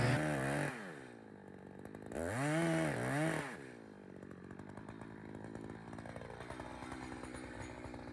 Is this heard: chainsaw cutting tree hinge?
yes